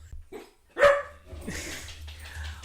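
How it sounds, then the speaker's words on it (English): A pet dog, a household mascot, lets out a single sharp, loud bark up close, followed by softer yips and whimpering noises in an otherwise quiet room. "You're gonna be hearing the dog a lot, folks, because he's our mascot."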